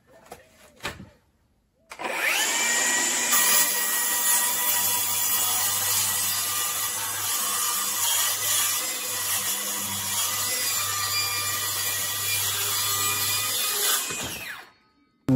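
Cordless Milwaukee M18 FUEL circular saw for wood and plastic with a 66 mm blade, ripping a long cut through wood at full blade depth: a short start-up, then a steady, loud, close whine lasting about twelve seconds before it winds down.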